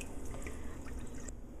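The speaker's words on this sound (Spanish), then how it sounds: "en la licuadora vamos a poner 3 tazas de azúcar y vamos a poner agua" Water being poured into a blender jar already holding three cups of sugar, a steady trickling, dripping pour, close and fairly quiet, with no voices.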